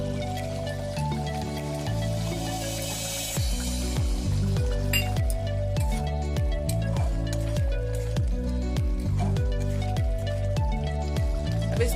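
Chole gravy with chole masala cooking in a pan over low heat, giving a steady stream of soft bubbling pops and squishy blips over a continuous background hiss.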